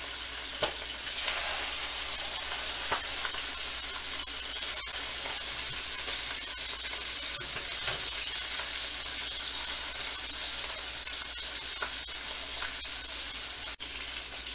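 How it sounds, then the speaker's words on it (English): Chicken sizzles loudly skin side down in hot oil in a hot pan, a constant crackling hiss with small pops and spits throughout, no talking. "I want to make sure this pan is nice and hot, and I want to hear it sizzle."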